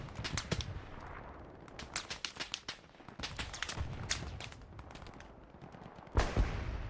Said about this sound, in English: MG versus MG down here.